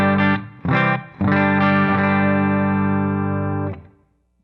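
An electric guitar played through a Princeton Reverb amp model on a Fractal FM9 rings out in a few short picked hits, then one long sustained chord that fades out.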